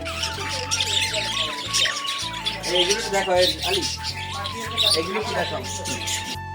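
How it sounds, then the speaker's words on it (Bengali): Many small birds, including budgerigars, lovebirds and pigeons, chirp and squawk at once in a busy chorus at a bird market in Barisal, with a low hum and background noise underneath and occasional voices. "বাজিগার লাভবাট কবুতর কিং আর অনেক অনেক রকমের পাখি আছে"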